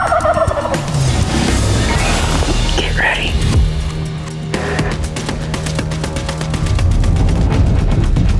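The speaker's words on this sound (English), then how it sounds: "all of a sudden out of nowhere, we hear one gobble off." Wild turkey gobbling close by outdoors during a spring hunt, a loud rattling gobble standing out over rustling woodland background, with hushed whispering nearby.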